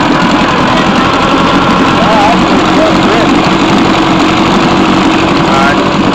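A 1955 Johnson Seahorse 10 outboard motor runs close and loud with an uneven, stuttering putter over a rough mechanical rattle, steady throughout, with people talking faintly in the background.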